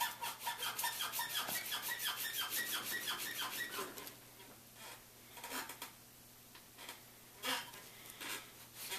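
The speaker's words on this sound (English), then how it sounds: "So we'll just go ahead and keep sanding this down, flip directions, sand it some more." Sandpaper rubs rhythmically on a small rubber R-hop patch for an airsoft barrel, quick back-and-forth strokes for about four seconds, then a few scattered softer scrapes and taps, close and quiet.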